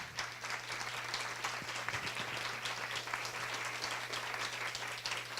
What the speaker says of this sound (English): So another round of applause for our esteemed panel.